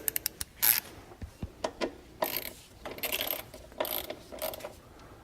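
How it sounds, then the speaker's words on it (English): A ratchet wrench snugs down the bolts on an electronic throttle body mounted to a plastic intake manifold, giving close, quick bursts of clicking and mechanical ratcheting in short spurts with brief pauses and no talking. "So I'll now take my ratchet"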